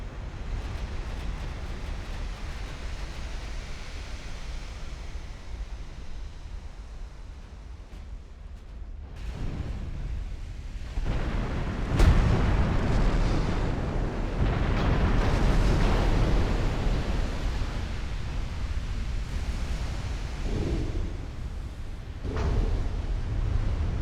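Heavy naval gunfire and shell explosions from Ultimate Admiral Dreadnoughts battleships in a Caribbean fight, a continuous rumbling roar with deep booms swelling midway, no speech over it.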